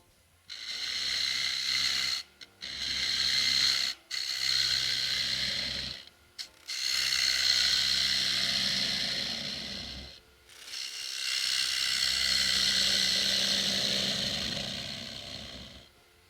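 Negative rake scraper working the inside of a whittled wooden bowl, making repeated rough scraping strokes with short pauses between them, close and moderately loud.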